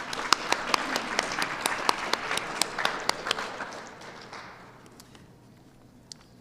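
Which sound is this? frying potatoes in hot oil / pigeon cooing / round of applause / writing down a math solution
round of applause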